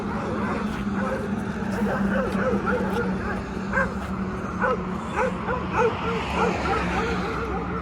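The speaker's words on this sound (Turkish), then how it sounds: "Evet köpekler birbirine girdi." Several Kangal dogs bark, yelp and whimper in a frantic fight, with continuous rumbling background noise and snarling bursts.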